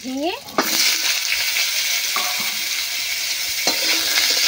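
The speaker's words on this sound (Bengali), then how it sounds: "ঝিঙেটাও বেশ আলুর মতন একই রকমভাবে লাল লাল করে একটু ভেজে নেব" Ridge gourd and potatoes fry in a pan in oil. After a brief tonal squeal, a loud, steady sizzle fills the rest of the clip, with occasional stirring scrapes and no talk.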